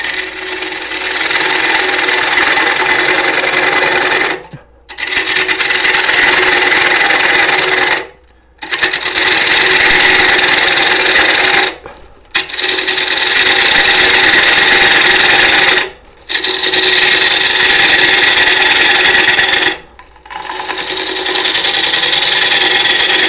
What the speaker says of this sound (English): I'm going to remove more of this material, and I'm going to just keep working in this and get this hollowed out underneath that rim just a bit more.